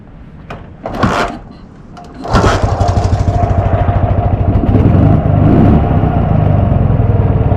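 A Dnepr MT-11 motorcycle engine, fitted with PZ30 carburetors, cranks with a couple of sharp clunks, then catches and settles into a loud, steady, pulsing idle close by.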